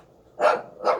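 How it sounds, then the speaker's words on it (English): A dog barks twice, close and loud, with two sharp separate woofs about half a second apart and no talking over them. "No, I'm gonna let the dog bark."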